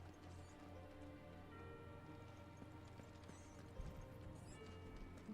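Horse in the video game Final Fantasy XVI, hooves clip-clopping steadily and faintly under game ambience, with a brief neigh near the end.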